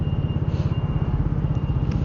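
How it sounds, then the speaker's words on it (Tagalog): A large truck crossing a road in Nankan, Taoyuan, heard as a loud, close low engine rumble with a steady pulsing throb and no speech. "Biglang tumawid yung malaking truck."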